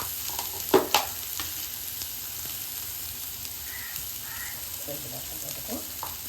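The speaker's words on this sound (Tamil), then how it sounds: "கடாய் வச்சுட்டு கொஞ்சம் பட்டர் போட்டாச்சு. கேப்சிகம் ஆனியன் போட்டு இதை நல்லா இப்படி வதக்கிறதுக்கு" Capsicum and onion frying in butter in a kadai, a steady faint sizzle with a couple of brief clanks of stirring near the start and soft scraping later.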